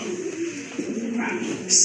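Pigeons, including a Mundian pair, coo softly and steadily in the low range, a close, continuous murmur with a brief brighter sound near the end.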